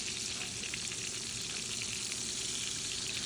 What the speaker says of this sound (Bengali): আমি লবণ এবং হলুদ দিয়ে রুই মাছ এবং চিংড়ি মাছগুলো ভেজে নেব।